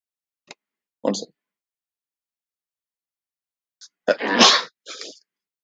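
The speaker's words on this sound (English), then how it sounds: "Sorry, I had to sneeze." A single sharp sneeze bursts out near the end, preceded by a couple of brief breathy sounds and a short pause; no talking.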